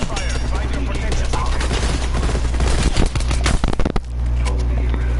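Rapid bursts of automatic gunfire in a Call of Duty zombies match, loud and dense, rattling almost without pause before cutting off near the end into a steady hum, with a game voice line mixed underneath.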